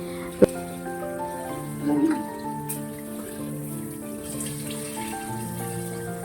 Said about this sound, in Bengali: চালটাকে আমি ভালো করে ধুয়ে নিলাম অনেকবার করে।